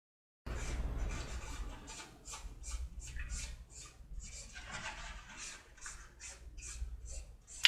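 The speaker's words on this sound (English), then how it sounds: "he's just wiping it off with the towel after it's gotten pretty nice and dry" A dry towel rubbing and wiping dried sludge wash off a scale model, a steady run of close, soft scratchy strokes repeating in quick bursts with no talking.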